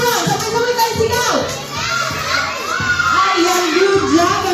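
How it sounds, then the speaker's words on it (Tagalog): Children at an outdoor event shout together in unison, a loud, sustained crowd of young voices rising and falling over several seconds, with bursts of excited yelling close by. "Sabay-sabay tayo sigaw."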